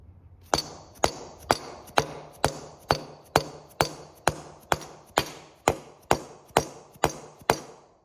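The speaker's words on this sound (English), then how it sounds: "I kind of want to show you guys the noise difference of when you bottom out" Repeated sharp metallic strikes seat a fuel injector in a 7.3 Powerstroke diesel during a 205/100 injector reseal and install, about fifteen evenly spaced loud close hits, each ringing briefly before the next.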